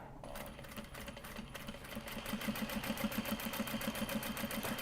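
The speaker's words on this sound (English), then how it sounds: "I'm gonna lift the presser foot, and then we're just gonna put a little half stitch." A home sewing machine stitches fabric in a fast, even mechanical rhythm that picks up speed partway through, close and steady with no talking.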